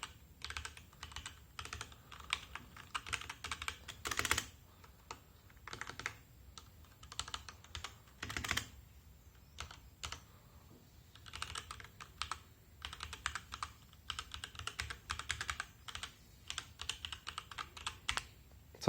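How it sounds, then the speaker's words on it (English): Someone types on a HyperX Alloy Origins mechanical keyboard, producing close, crisp clicking keystrokes in quick irregular bursts separated by short pauses, with no talking. "I will start typing something so you can hear the sound of the clicking."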